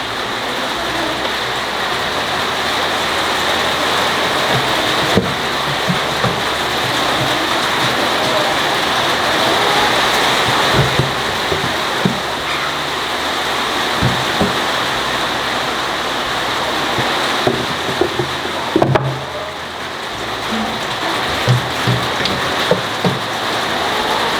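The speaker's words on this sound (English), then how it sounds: "the rain just started. We haven't had rain in quite a while. It's kind of loud on the tin roof" Sudden heavy rain drums steadily on a tin roof over a garden, a loud, dense hiss that lasts throughout. Irregular louder drips and splats stand out from the wash, and no one speaks.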